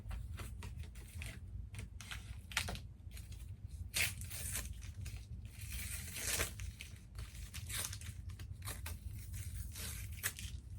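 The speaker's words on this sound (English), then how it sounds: "We can use the scissors to get the plastic off." Scissors snip and tear at plastic packaging on a sewing kit box, giving a dense, faint run of crinkling, scraping and cutting sounds close by, with no talking.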